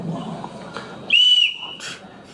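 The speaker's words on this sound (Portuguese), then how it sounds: "Eu tenho uma apita aqui em algum lugar." A hand whistle blown once in a sharp, steady shrill blast lasting under half a second, loud over quiet background noise at home, during a pot-banging protest.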